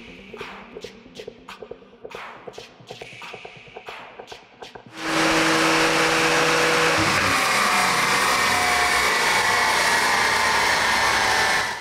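A Porsche 991 Turbo running on a dyno bench during engine mapping work, preceded by a few seconds of clicking and clattering, then a loud, steady, close roar that holds for the rest of the span.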